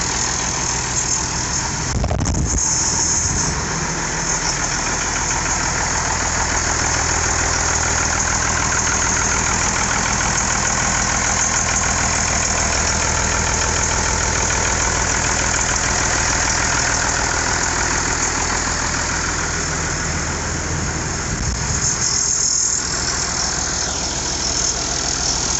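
An International Harvester 5288 tractor engine idles steadily after its first start, a loud, close diesel rumble with a knocking throb that runs unbroken for the whole stretch, apart from a couple of brief dips.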